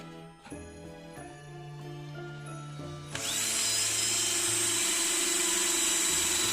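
An electric drill whirs in short bursts at first, then revs up into a loud, steady, high-pitched drilling whine that runs to the end.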